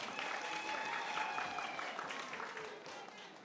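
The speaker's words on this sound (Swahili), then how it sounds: "Nipigeni makofi tafadhali." A crowd at an outdoor political gathering of party youth in Pwani applauds on request, a steady, fairly distant patter of many hands with scattered shouts and whistles mixed in.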